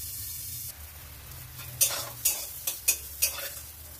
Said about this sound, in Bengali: তেল ভীষণই কম তেলে রান্না করব বলে আমি ঢাকা দিয়ে দিয়ে উচ্ছেটাকে ভালো করে ভেজে নিচ্ছি।